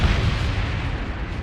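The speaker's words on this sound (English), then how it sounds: "I was curious if my shields could take one of their explosions, and the answer is no." Heavy explosion rumble from the space combat game Starsector, a dense, loud, sustained roar with strong low boom that barely fades over the short span.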